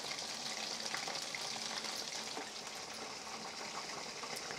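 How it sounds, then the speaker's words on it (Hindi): Soya chunks coated in spices frying in a kadai, a steady dense sizzle and crackle that holds at an even level throughout, with no voices. "इसे थोड़ी देर ऐसे ही फ्राई होने देंगे उसके बाद ही उलट पलट करना है"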